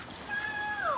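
A cougar gives a single high, thin chirp that holds steady and then slides downward, faint and close, with quiet background noise.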